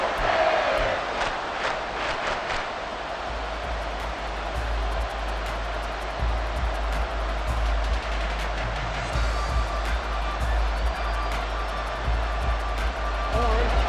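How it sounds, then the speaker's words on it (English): A packed football stadium crowd roars steadily during a tense third down, a dense, continuous wall of noise with whistles rising near the end and no clear talk above it. "this crowd is making an impact right now"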